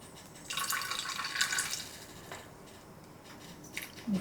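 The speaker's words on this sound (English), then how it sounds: "I'm going to take some of this bacon grease and about just a spoonful, I'm going to pour just a little bit into my green beans." A spoonful of bacon grease drips and splatters into green beans, a few soft wet trickles and squelches at close range, quiet and scattered over several seconds.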